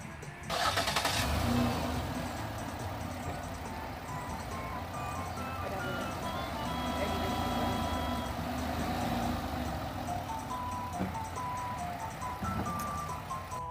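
A car starting up and driving down off the ramps it was raised on after an oil change, a loud engine burst at the start settling into a steady mid-pitched running drone with faint tonal whine throughout.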